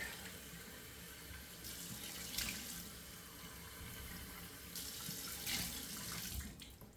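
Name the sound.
cold water running in a sink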